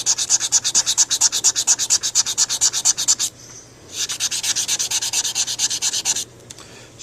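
A tobacco pipe mouthpiece is hand-sanded with 120 grit sandpaper in close, loud, rapid back-and-forth strokes, one steady run of rubs, a brief pause, then a second run.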